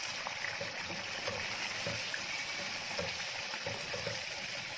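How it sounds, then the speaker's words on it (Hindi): Chicken cooking with beaten yogurt in a pan for achari chicken, a steady dense sizzle with faint bubbling and occasional soft stirring, close and continuous. "और हम इसमें ऐड करेंगे दही और इसको खुश्क होने तक पकाएंगे"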